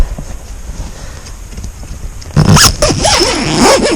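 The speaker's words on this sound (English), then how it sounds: "grab this other zip here" After a quiet stretch, the zipper on a Redverz Atacama motorcycle tent is pulled open, a loud, close, rasping zip lasting over a second.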